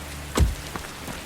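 Soft rain falls steadily through the night, faint and even, broken by one dull nearby thump with a couple of smaller taps after it.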